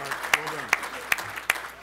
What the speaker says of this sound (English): Let's have a round of applause for Marc Brown.